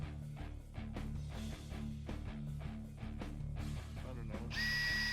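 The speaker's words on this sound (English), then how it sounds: "Now, drill our holes." A power drill boring holes in a truck body, its motor whirring in several short bursts with a higher sustained whine near the end, while a person talks.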